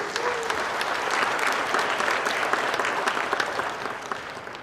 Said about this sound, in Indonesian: Tepuk tangan buat Pak Paul Darius.